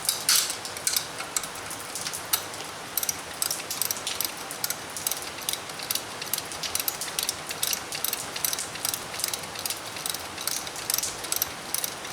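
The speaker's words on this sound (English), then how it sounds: "Need some 12-point ratcheting wrenches to be able to get into good stuff." A 12-point ratcheting wrench works a bolt in the engine bay of a 1977 Camaro Z28 during an accessory drive install, giving a steady run of rapid, close metallic clicks throughout.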